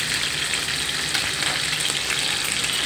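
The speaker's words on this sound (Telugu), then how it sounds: "ఫస్ట్ మెత్తళ్ళు వేయించుకోవాలండి" Dried small fish fry in hot oil in a pan, producing a steady, dense crackling sizzle that stays even and close throughout, with no voices.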